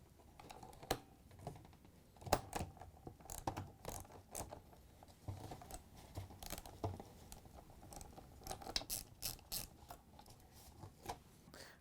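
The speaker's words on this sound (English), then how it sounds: "remove these clamps that hold the pump housing to the sump in the tub" A socket ratchet loosens the clamps holding a GE dishwasher pump housing to the sump in the tub, giving soft, close bursts of quick clicks with short pauses between strokes.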